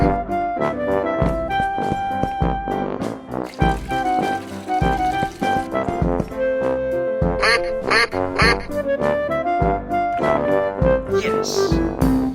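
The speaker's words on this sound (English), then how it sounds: "Duck." A cartoon duck quacking repeatedly in brisk bursts over loud, busy music and sound effects, close and prominent.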